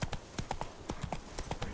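Horse named Roach walking, hooves clip-clopping in a quick, uneven rhythm, close and fairly faint.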